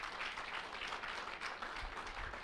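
A congregation at a Spanish-language theology class claps together in a steady, dense wash of applause, fairly loud and unbroken throughout.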